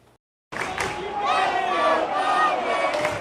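Crowd at a Dodger Stadium baseball game cheering and shouting in chant-like bursts, a dense wall of voices that rises after a brief silence and stays loud to the end.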